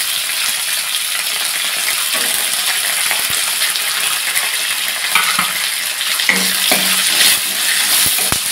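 Green chilli, ginger and garlic sizzle steadily in a hot pan for a village-style cucumber chutney, a loud continuous crackle with a few clinks of a utensil near the end.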